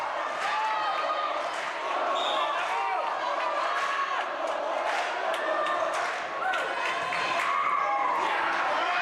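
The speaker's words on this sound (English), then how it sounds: "So as you can hear here, the Viroqua crowd's coming to life." A home crowd of Viroqua fans cheers and shouts at a high school volleyball regional game in a gym, a dense, steady roar of many voices with louder swells throughout, and a nearby voice talks over it.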